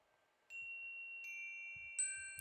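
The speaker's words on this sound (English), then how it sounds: "of the chimes right now." Clear, sustained chime tones ring out one after another, three notes each struck and lingering to overlap the last, at a sound bath in a calm, quiet setting.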